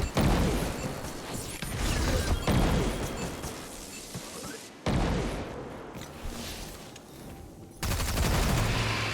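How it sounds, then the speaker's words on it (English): Xenophage shots in Destiny 2 against an arc-shielded captain: three heavy, booming blasts, each followed by a long rumbling decay, spaced about three seconds apart over noisy game background, with no talking. "I'm just going to take that out with 3 Xenophage shots."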